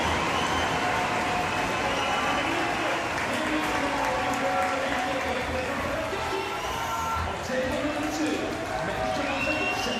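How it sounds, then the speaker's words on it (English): A large indoor crowd at a para table tennis wheelchair doubles match roars steadily at South Paris Arena as French players are introduced, a dense, continuous wash of cheering and clapping with no breaks. "So the roar you can hear is as French players are introduced to the crowd."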